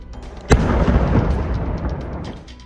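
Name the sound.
controlled detonation of a German WWII bomb in Exeter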